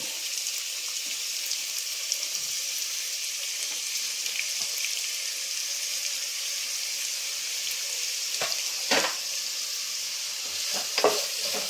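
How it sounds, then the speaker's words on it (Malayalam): Onion, carrot and green chilli frying in a pan for pasta make a soft, steady sizzle, with a few louder stirring scrapes near the end. "ഇനി നമുക്ക് സബോളയും ക്യാരറ്റും ഇട്ട് കൊടുക്കാവേ"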